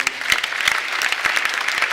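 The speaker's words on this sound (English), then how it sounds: "please can you give a round of applause to them?" Conference audience applauds the speakers at a wealth summit, scattered sharp claps over a steady clapping bed, fairly close.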